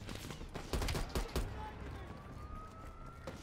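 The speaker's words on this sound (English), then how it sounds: "I hear somebody with a shotgun." Several quick shotgun blasts boom in a burst during Black Ops Cold War campaign gameplay, followed by a rising whine and background noise, with a voice talking around them.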